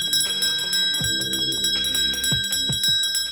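A bright bell sound effect rings several times in quick succession, clear metallic tones with ringing overtones, close and alone without any voices.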